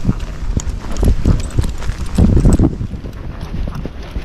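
A young Tennessee Walking Horse walks on an outing, its hooves striking in an uneven series of close, distinct clip-clops that cluster and then fade slightly toward the end.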